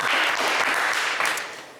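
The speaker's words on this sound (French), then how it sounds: "On vous applaudit très fort." Studio audience on a French television game show breaking into brief, dense applause that fades out toward the end.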